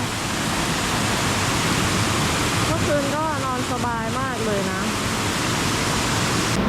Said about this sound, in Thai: ได้ยินเสียงน้ำไหลตลอดทั้งคืนนะคะ